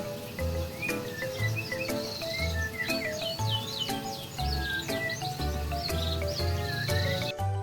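A caged canary sings noisily and continuously nearby, bright rapid trills and chirps in a busy ongoing run, alongside steady background chirping and rhythmic thumps.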